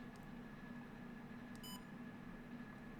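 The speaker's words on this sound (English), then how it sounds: "the beep that this thing makes every time you hit record" A DJI Osmo Pocket gives a single short, bright electronic beep as recording starts, heard faintly midway over a steady low background hum.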